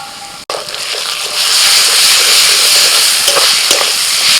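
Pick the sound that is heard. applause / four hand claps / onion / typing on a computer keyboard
onion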